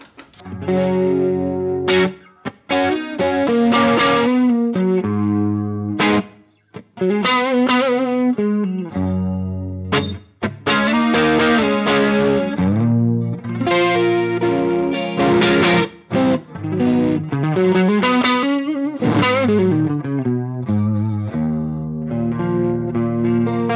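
Electric guitar played through a Bogner Helios Eclipse amp with a touch of chorus, driven and distorted, with strummed chords and sustained phrases that ring out loudly and without talk.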